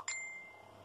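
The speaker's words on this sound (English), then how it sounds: "Sorry, that was my phone." A phone notification chime gives one short, bright ding that rings out briefly in a quiet room, faint and with no one speaking.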